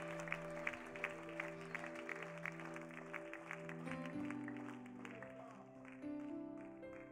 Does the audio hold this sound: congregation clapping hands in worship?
yes